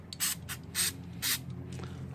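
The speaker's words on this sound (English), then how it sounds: "what I'll do is I'll spray lightly onto the cloth." Throttle and air-part cleaner from an aerosol can is sprayed onto a cloth while prepping a GY6 scooter body panel, three short hissing bursts in an even rhythm, close and clear with no talk.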